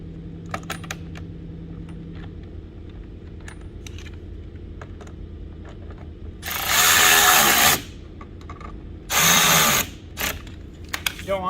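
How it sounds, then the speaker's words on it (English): A power drill drives 1-inch number 14 screws into inserts while splash guards are fitted on a 2020-or-newer Ford Explorer, with two loud whirring bursts of about a second each, preceded by faint clicks and handling noises. "we're going to take our 1-inch number 14 screws and put those right into those inserts."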